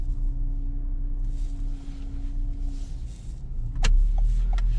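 Steady low engine hum from a Toyota car while driving, constant and close, with a brief click near the end.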